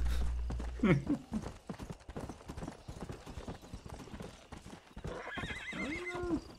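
Horses gallop in the video game Red Dead Redemption: Undead Nightmare, with rapid rhythmic hoofbeats, a clear whinny near the start and another neigh near the end, under scattered game sounds and some talk.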